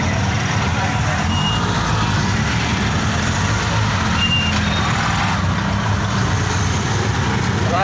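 Dense Saturday-night road traffic with a steady low rumble of engines and trucks, a few faint high reversing beeps showing through the wash, all continuous and fairly loud throughout.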